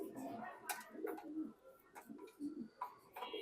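Racing pigeons coo softly nearby in repeated low, throaty bursts, with brief chirps and faint background rustling between calls.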